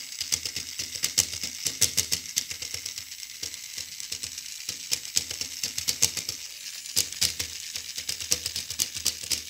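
A fast, dense mechanical buzzing and rattling, close and steady, with brief pauses between bursts of rapid clicking.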